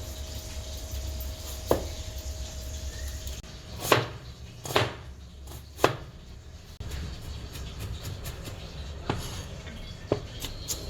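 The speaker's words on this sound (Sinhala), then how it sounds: "මම මගේ ඉතුරු පරිප්පු එකේ ඉතුරු onions ටික චුට්ටක් මේ ඉතුරු භාගෙත් කපා ගන්නවා." Knife chopping leftover onions on a board in a home kitchen, a handful of sharp, separated chops spaced irregularly over a low background hum, fairly close and moderately loud with no talk.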